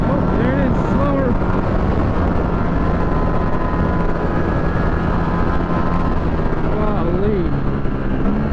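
Ducati V4 SP2 motorcycle engine, a 2023 model, droning loudly and steadily on a racetrack, with pitch sweeps rising and falling as it revs through the range, and wind and road noise running underneath throughout.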